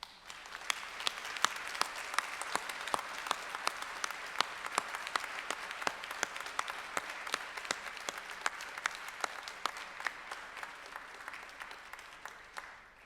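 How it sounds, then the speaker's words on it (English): Sustained audience applause from a standing crowd at a Monash University graduation ceremony, dense and steady for the whole stretch with sharp individual claps standing out, no voices over it. "express your gratitude by a round of applause"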